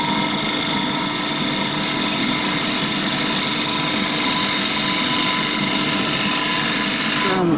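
A wood lathe turns the wooden base of an Eaton table lamp while a bevel-rubbing cut runs slowly along it, giving a steady, loud motor whine and cutting hiss without break, ending in a brief change near the close.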